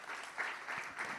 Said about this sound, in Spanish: Un aplauso, por favor, a las tres.